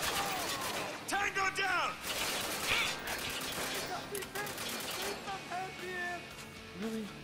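Shotgun and other gunfire in Spec Ops: The Line video game, with repeated blasts under frantic shouting and radio chatter, loud and continuous in a chaotic firefight.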